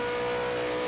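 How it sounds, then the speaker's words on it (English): A V8 Supercar engine roars at Bathurst in a racing video game, a loud, steady, buzzing drone held close throughout. "V8 engine. What a noise."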